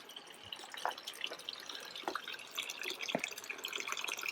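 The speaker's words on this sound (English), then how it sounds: "this water coming out of here is nice and warm from onsen water" Warm onsen hot spring water runs from a spout in a Japanese bathing area, making a soft, continuous trickle with scattered drips and splashes, faint and close.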